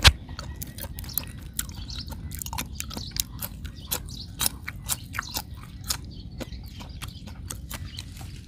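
Close, steady chewing of food at a Thai meal of raw beef with liver, bitter sauce and crisp vegetables, with repeated crunchy bites and clicks over a low background rumble.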